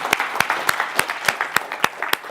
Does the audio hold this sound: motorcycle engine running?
no